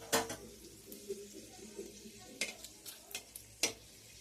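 Dried red chillies dropped into hot white oil in a pan, a sharp crackle at first, then a low sizzle with scattered ticks and pops as they fry, close and fairly quiet.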